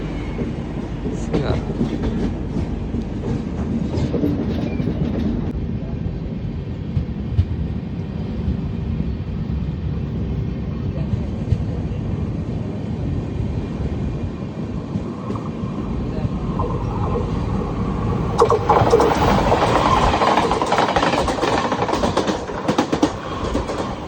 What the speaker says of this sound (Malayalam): സെൻട്രൽ റെയിൽവേയുടെ സബർബൻ ട്രെയിൻ.